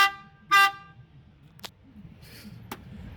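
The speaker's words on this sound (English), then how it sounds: "This is my air horn." A truck air horn on a car hauler gives one short, loud blast near the start, followed by a couple of brief hissing or clicking bursts over a quiet background, with no talk.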